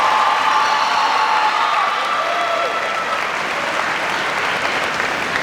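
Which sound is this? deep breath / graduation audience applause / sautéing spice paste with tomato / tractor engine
graduation audience applause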